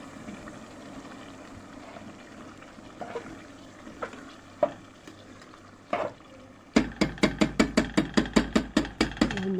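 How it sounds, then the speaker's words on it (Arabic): Onions and garlic sizzling softly in a pan as tomato juice is added, with a few scattered scrapes, then a quick run of rhythmic stirring clatters from the spoon against the pot. "نزلت بعصير الطماطم تقليبه صغيره كده"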